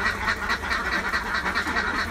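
Laying ducks kept in battery cages quack in a dense, steady chorus of overlapping calls, close and fairly loud throughout, with no talking.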